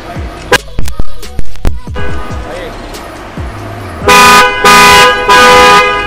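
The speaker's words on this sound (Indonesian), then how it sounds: "Nah, jadi kurang lebih seperti itu bunyi klaksonnya." An SRI super horn fitted to a 2019 Honda HR-V E facelift sounds in a few short loud toots followed by three longer sustained blasts, after a series of sharp knocking taps; no talk during the horn.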